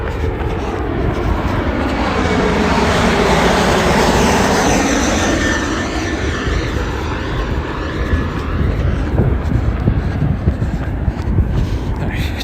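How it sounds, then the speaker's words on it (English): An airplane flies overhead near the Washington Monument, a loud, broad roar that swells to a peak and then slowly fades while still rumbling. "Comes another plane."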